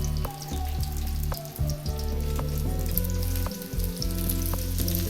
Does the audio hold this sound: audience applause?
no